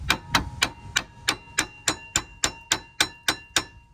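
A hammer taps a metal brake caliper on a 2015 Nissan Rogue in a steady, even rhythm, about a dozen sharp ringing clinks, close and clear with no talking.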